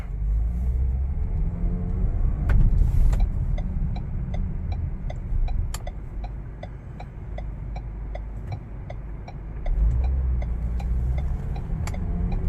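A 2019 Ford Edge Titanium SUV being driven with its check engine light on, a steady low engine rumble and road hum inside the cabin, with a regular light ticking like a turn signal running throughout.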